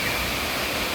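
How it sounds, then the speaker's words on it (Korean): A five-stream waterfall, 61 m long, pours from a high cliff beyond a wide lawn plaza, making a steady, dense roar that fills the whole second with no other sounds. "광장 너머 높은 절벽 위에서 5갈래의 폭포가 쏟아집니다."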